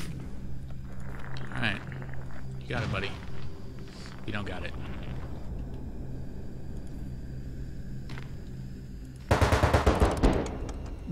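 In a video game, a rapid burst of automatic gunfire rattles near the end, loud and close, while a person talks over the earlier part.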